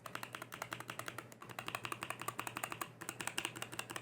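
Quiet, rapid keystrokes on a NuPhy Air 96 V2 keyboard fitted with linear Aloe switches form a steady, evenly spaced clatter of light, slightly hollow clicks, with one brief pause.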